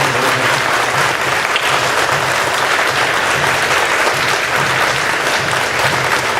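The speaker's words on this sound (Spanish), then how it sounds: "Vamos a darle un fuerte aplauso a Jesús en este tiempo." A church congregation at a Virgen de Guadalupe parish gives a loud, sustained round of applause for Jesus, dense clapping filling the hall steadily from start to finish with no voices rising above it.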